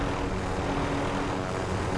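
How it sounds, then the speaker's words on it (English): Helicopter in Call of Duty: Modern Warfare, a dense, steady rotor-and-engine roar filling the moment at constant loudness, close and unbroken, with no voices over it. "Okay, our helicopter is going to explode."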